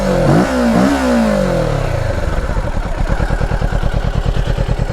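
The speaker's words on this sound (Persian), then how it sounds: "این هم صدای اگزوزش هست. یک دفعه گاز بدم." A Kawasaki Ninja 650 motorcycle's exhaust revs up sharply twice at close range and then settles into a loud, rapid, pulsing idle.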